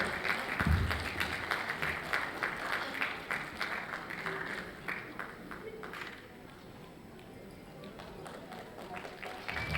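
Parents and guests in an audience applaud at a school annual day event, a steady wash of many hands clapping that fades slightly midway, with a voice speaking over it.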